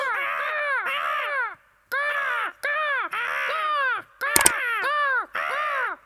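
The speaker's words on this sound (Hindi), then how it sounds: "कौवों ने किया हम सबको परेशान।" Cartoon crows caw repeatedly in a cartoon, harsh descending calls in clustered bursts separated by brief silences, loud and close, with a sharp bell-like hit partway through.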